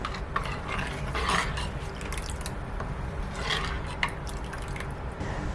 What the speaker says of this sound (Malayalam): വെള്ളം ചേർത്ത് കഴിഞ്ഞ് നല്ലപോലെ മിക്സ് ചെയ്ത് കൊടുക്കാം.